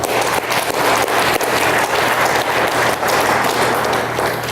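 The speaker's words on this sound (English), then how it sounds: "Another round of applause to honor her." A board of education audience gives a round of applause honoring a staff member, loud and dense clapping that fills the room continuously from start to finish.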